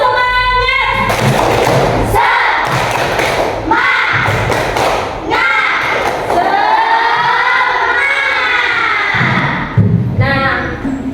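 A classroom of children performs a rhythmic clapping chant together, loud claps and thumps in steady patterns mixed with chanted voices, close and energetic throughout.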